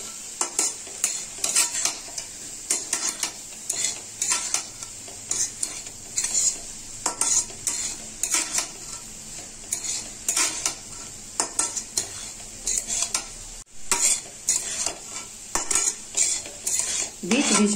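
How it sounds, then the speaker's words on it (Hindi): Cauliflower frying with spices in a pan over medium heat, a soft sizzle under frequent scraping and clinking of a spatula against the metal pan, stirred in irregular bursts throughout with no talk. "गोभी को मसाले के साथ फ्राई करेंगे।"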